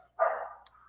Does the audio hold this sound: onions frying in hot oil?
no